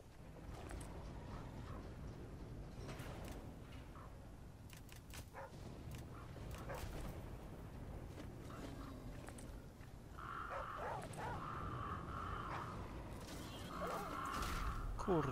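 A dog in the survival game The Flame in the Flood barks a few times at intervals over a steady, moderately loud ambient backdrop.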